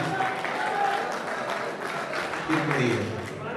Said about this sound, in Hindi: तालियां भाई, तालियां